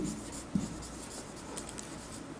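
Chalk or marker scratches across a classroom board in short, faint strokes and taps, with no speech over it.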